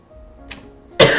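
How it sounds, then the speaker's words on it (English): A single harsh, close cough from a gamer during a Long Live the Queen playthrough bursts out after a quiet moment with faint background hum, preceded by a small breathy catch. "I'm sorry, I'm coughing so much right now."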